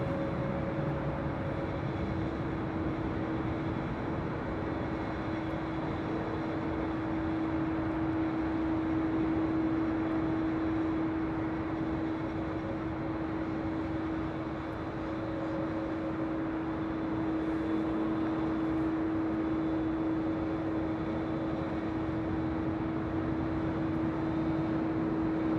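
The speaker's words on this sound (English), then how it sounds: "That was United Airlines Flight 1431 heading to Honolulu. That's 757-300, originally with Continental" A United Airlines Boeing 757-300 passenger jet, formerly with Continental, flying at LAX, a steady broad jet roar with a constant tonal whine holding at even loudness throughout, with no voices.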